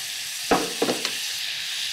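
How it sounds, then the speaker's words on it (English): Heavy cream poured into hot amber caramel in a pan, giving a few quick sizzling bursts over a steady frying hiss, fairly close and moderately loud. "add your 1 cup of heavy cream, carefully because it might splatter"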